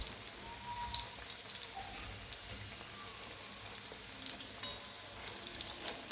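Chicken pakora frying in hot oil in a pan, a steady close sizzle with scattered bubbling pops, no talking over it.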